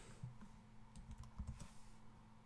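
Computer keyboard keys pressed for a shortcut while editing in Inkscape, a few quick soft clicks in a short cluster, close and faint with no voice.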